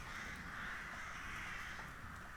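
Dark crows caw under a steady, hissing wash of outdoor ambience, added as a sound effect in an Irish mythology story about a battle near Castleknock.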